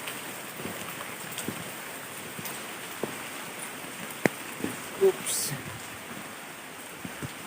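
Heavy rain hisses steadily outside an old house, with scattered sharper drips and a short knock or two over the continuous wash of water.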